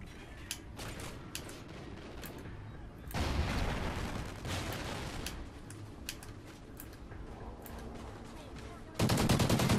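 Gunfire in Call of Duty Ghosts online multiplayer: rapid bursts of automatic shots and sharp single cracks, fairly close and dense, in a couple of loud bursts with quieter gaps; no one speaks.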